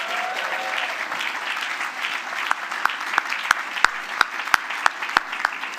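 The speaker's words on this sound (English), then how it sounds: "Remember, you've got to keep clapping until they're all on stage." Audience applause in a hall as charity nominees from Manchester community groups walk onto the stage at an awards event, steady dense clapping with sharper individual claps standing out toward the end.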